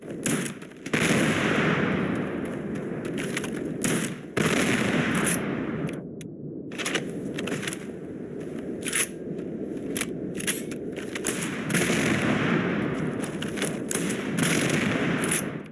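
Coachman gun firing without volatile rounds in Starfield: a rapid string of loud, close shots, each a sharp crack blending into the next. Brief pauses break the firing near one, four and six seconds, with no talking.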